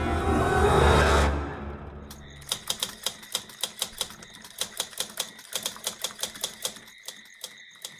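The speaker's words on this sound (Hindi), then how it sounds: "टाइपराइटर की बटन दबने की आवाज सुनाई दे रही थी।" A white typewriter in a closed room clacks out a rapid, uneven run of crisp keystrokes, close and clear, after a brief rushing whoosh fades away.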